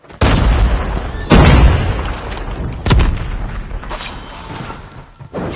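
Grenade blasts in a Call of Duty Mobile Search and Destroy match land as several loud, close booms, each trailing off into a rumble, with more gunfire-like bursts near the end.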